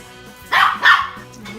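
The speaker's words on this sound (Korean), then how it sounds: "진짜 시끄럽게 짖는다." A Maltese dog barks loudly indoors, giving two sharp, close barks in quick succession over a quiet background.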